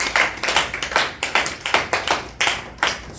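A church congregation applauding in rhythm, giving a sharp, loud, evenly spaced run of about a dozen group claps close by with no talking.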